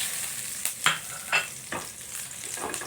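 Garlic sautés in a hot pan, a continuous sizzle broken by several sharp scraping stir strokes, close and fairly loud with no talking.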